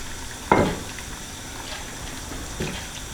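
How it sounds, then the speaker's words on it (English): Washed pieces of beef drop into a pot of simmering water, two quick splashy bursts about two seconds apart over a soft bubbling background. "with the washed beef, we're going to place it into some simmering water"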